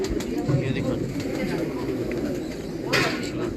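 A champion pigeon coos at close range in short throaty bursts, with people's voices murmuring in the background.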